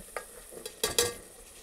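Spices for pav bhaji masala being stirred into hot oil for tempering, heard as a few sharp scrapes and clinks over a faint sizzle, close and brief.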